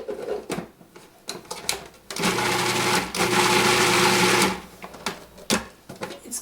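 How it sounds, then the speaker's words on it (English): Blender pureeing a vegetable mixture, a brief loud whirring burst in the middle with quieter clatter and handling noises around it. "One more little blend."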